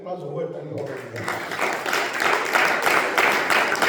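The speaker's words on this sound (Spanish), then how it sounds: "Den un aplauso fuerte al Hijo de Dios." A church congregation bursts into loud applause that swells and keeps going after a brief spoken voice at the start.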